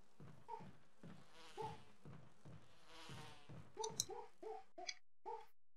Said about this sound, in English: Oh, those fucking bees.